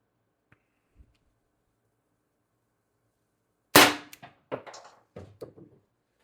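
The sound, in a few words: Umarex TR50 HPA air gun firing 12.7mm ball bearing into plywood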